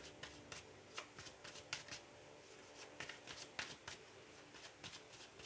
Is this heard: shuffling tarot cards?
yes